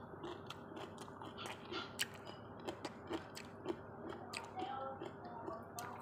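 Crunchy homemade pickled turnip (labanos) being bitten and chewed up close, a series of sharp crisp crunches and clicks spread irregularly over a quiet background with no talking.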